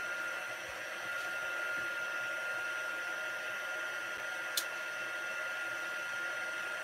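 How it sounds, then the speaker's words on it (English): A heat tool blows air to dry dye ink on cards, a steady, moderately quiet whooshing hum with a faint tonal whine, continuous throughout apart from a brief small click. "I'm going to turn on my heat tool because I thought it looked really cool with the drops"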